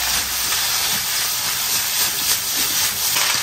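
Braised pig head meat dropped into a hot wok of oil with scallion, ginger, garlic, chili and broad bean paste, giving a continuous loud steamy sizzle and hiss with no pauses.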